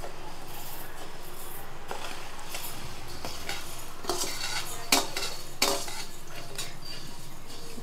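Wheat roasts dry in a pan while a spoon stirs it, giving repeated scraping and rubbing sounds with a couple of sharper metallic clinks over a faint sizzle.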